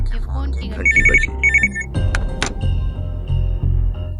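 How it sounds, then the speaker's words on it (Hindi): A telephone sitting on a table rings in two short electronic trilling bursts, close and clear. A voice speaks around the rings, with thumps and background sounds from a dramatized scene. "तभी अचानक टेबल पर रखे फोन की घंटी बजी।"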